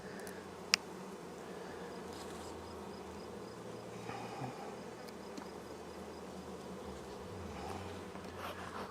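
Honeybees buzz inside a hive near the brood nest as autumn approaches, a faint, low, steady hum with a single sharp click early on and no voices.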